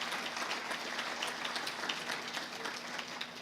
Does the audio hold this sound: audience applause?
yes